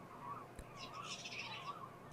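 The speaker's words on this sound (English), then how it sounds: "the chatter of redpolls, magpies, starlings, and the familiar cries of herring gulls" Redpolls, magpies, starlings and herring gulls chatter and call together at a distance in Alaska, a busy mix of chirps and cries over faint background noise.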